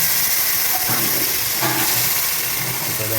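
Pieces of mutton dropped into hot oil in a pan with sautéed onions, a loud, dense, continuous sizzle and hiss close up, with no talk.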